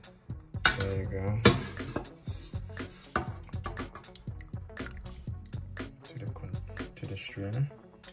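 A utensil scoops cooked vegetables out of turkey stock into a strainer set in a plastic bowl, making clinks, scrapes and dripping liquid while a person talks throughout.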